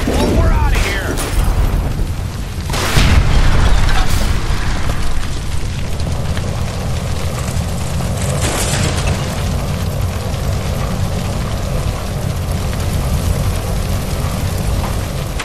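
A gas line explodes in L.A. Noire with a loud burst followed by a sustained roaring, crackling rumble under raised voices.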